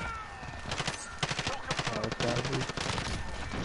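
Rapid automatic gunfire in a Call of Duty match, bursts of sharp shots crackling in quick rhythm through most of the clip, with a faint voice underneath.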